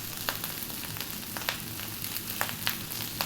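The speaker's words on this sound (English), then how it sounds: "That is your rice frying." Green vegetable rice frying in a pan on high heat, a steady low sizzle with scattered crackles and pops, faint and alone.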